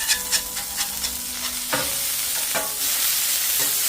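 Smash burgers of half ground beef, half bacon sizzle loudly on a hot cooktop, with sharp scraping clanks as a spatula flips each patty and a steady frying hiss building afterward.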